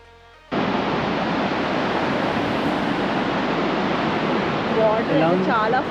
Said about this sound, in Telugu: వాటర్ చాలా ఫ్లో ఉంది.